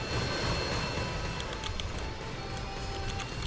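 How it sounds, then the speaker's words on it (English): Jet aircraft engine in the Roblox game Mad City, a loud, steady roaring whoosh with a thin high whine and a few faint clicks over it. "This is how you park a jet"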